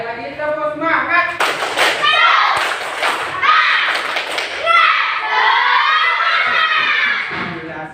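A class of schoolchildren repeats a rhythmic clapping chant, clusters of loud claps and thumps punctuating their energetic sung-out voices at close range.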